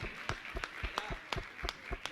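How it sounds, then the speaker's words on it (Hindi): A small audience at a spiritual discourse gives a faint, sparse applause, with scattered individual claps rather than a full roar, quiet and somewhat distant. "मैं चाहूंगा दोनों हाथ उठा के जोरदार ताली बजाएं इस युवा साथी के लिए"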